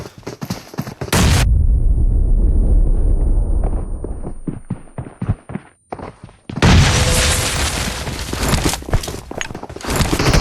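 A grenade blast in the PUBG Mobile shooter game, a loud sustained boom rolling for several seconds, followed by a burst of sharp gunfire cracks and another long dense roar of loud game explosions and shooting.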